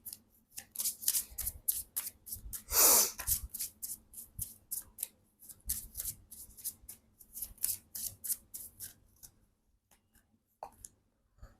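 Romance Angels oracle cards being shuffled by hand, a run of quick crisp riffling flicks with a louder burst near the start, close and clear with no talking.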